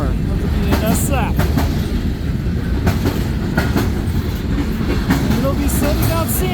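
A CN freight train arriving at the yard in Ladysmith, Wisconsin rumbles close by with continuous wheel clatter, rhythmic clicks and occasional thin squeals from the railcars, all at a loud, steady level.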